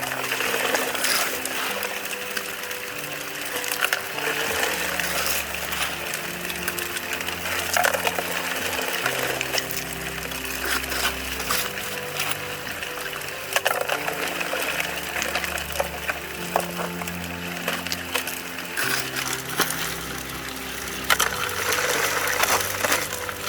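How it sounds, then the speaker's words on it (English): An electric rock washer churning river gravel from dredge tailings, a continuous noisy rattling and grinding with a low motor hum, loud and steady throughout with occasional louder clatters. "it is an electric rock washer, so I can just stick it in there, get all the crap off of it,"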